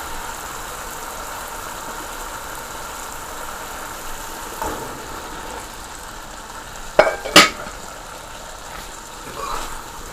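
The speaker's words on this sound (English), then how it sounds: "now it's all frying down nicely" Chickpea curry with channa frying down in a pot, giving a steady, moderate sizzling hiss throughout, with a few sharp clinks of a spoon against the pot near the end.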